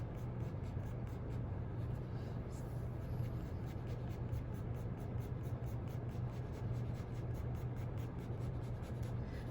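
A pen scratches crisscross cross-hatching ink lines back and forth across paper, a steady continuous scratching close to the mic, with a low hum underneath.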